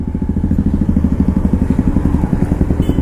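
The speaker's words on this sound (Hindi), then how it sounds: "जब आप इस बाइक को चलाओगे" A 2023 Honda SP125, a 125 cc commuter motorcycle, ridden through traffic, its engine giving a steady rapid low putter, close and even, with no talking.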